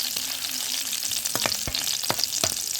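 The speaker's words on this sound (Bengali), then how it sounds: "রসুন কুচিগুলো আগে একটু ভেজে নিচ্ছি।" Chopped garlic frying in hot oil in a wok sputters with a bright, steady sizzle nearby, while a few sharp metallic clinks of a spatula against the wok ring out through it.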